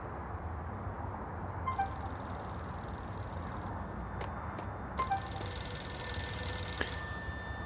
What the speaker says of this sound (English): Payphone is ringing.